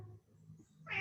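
A cat meows once, close and fairly quiet, a short rising call that ends on a brighter, sharper note.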